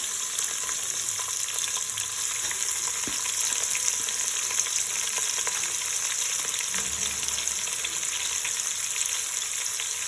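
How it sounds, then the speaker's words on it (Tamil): Large onions frying in hot oil for tomato rice, with a steady, close, continuous sizzle and occasional faint stirring. "அடுத்து பெரிய வெங்காயம் போட்டுக்கிறேன்"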